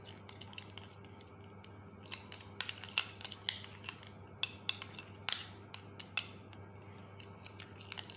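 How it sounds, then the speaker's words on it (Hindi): A utensil mixes aloe vera gel, Vaseline and cornstarch in a bowl, making faint, irregular clicks and scrapes repeated over several seconds in a quiet room. "मैंने एलोवेरा जेल, वेज़लीन और कॉर्न स्टार्च लिया है और मैंने अब इसको अच्छे से मिक्स करना है"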